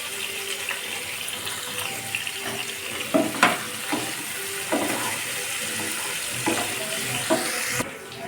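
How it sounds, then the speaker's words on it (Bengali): Young jackfruit pieces fry with turmeric and salt, giving a soft, steady sizzle broken by scattered stirring scrapes and clinks, fairly close but not loud. "এখন এঁচোড়গুলোকে ভেজে নেব।"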